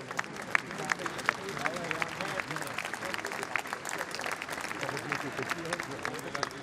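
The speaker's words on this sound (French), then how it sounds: "On peut l'applaudir" An audience at Aluminium Dunkerque applauds Prologium's CEO, Mr. Yang, a steady patter of many hands clapping at moderate distance, with murmuring voices and babble mixed underneath throughout.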